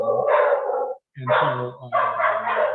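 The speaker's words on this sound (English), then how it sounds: "my dog's going crazy" A dog barks excitedly in loud, close bursts of yips and bow-wows, with a brief pause before a second run of barks, a voice speaking faintly underneath.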